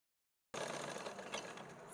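A sewing machine stitches the seam of a kameez, its steady mechanical whir and rapid needle clatter starting abruptly after half a second of silence and running on alone.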